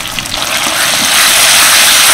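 Chopped tomatoes and ginger-garlic paste fry with onions in a pan, giving a steady, loud sizzling hiss that swells and holds without a break.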